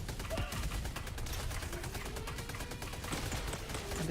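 Enemy gunfire in the Helldivers 2 video game on the cyborg front, rapid bursts of automatic shots crackling steadily at mid distance over a dense background of battle noise.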